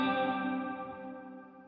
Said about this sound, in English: The dense reverb is giving us like a plate style reverb.